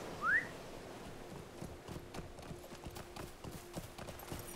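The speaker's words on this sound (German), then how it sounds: "Da gehen wir aufs Pferd" Horse hooves clip-clop in a steady, fairly quick rhythm as a mount trots in the video game LOTRO, with a short whistle at the start and a faint sustained tone running underneath.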